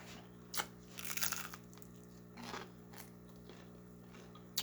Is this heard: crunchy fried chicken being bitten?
yes